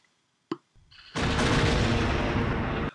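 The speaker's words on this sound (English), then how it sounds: "Yes! Shockwave grenade!" A shockwave grenade from The Mandalorian goes off: a short pop, a brief lull with a low rumble, then a loud, sustained broadband blast that holds steady for nearly two seconds before cutting off abruptly.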